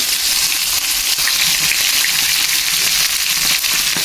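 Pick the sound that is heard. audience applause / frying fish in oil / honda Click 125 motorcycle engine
frying fish in oil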